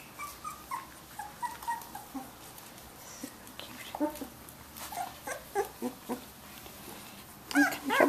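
A puppy whimpers in thin, high, repeated whines and yips, close by and soft, while a person talks quietly nearby.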